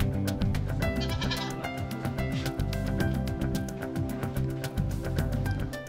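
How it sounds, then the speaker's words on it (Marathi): Rajasthani-breed goats kept in a stall-fed enclosure on a Satara farm bleat repeatedly and overlap in a loud, continuous chorus of many animals close by, with no talking. "राजस्थानी जातीची 400 बोकडं आणि शेळ्या यांचा"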